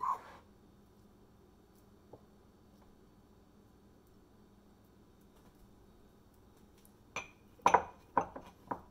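Garlic being put into a bowl of smashed cucumbers, a few light clinks and taps against the bowl near the end after a quiet stretch.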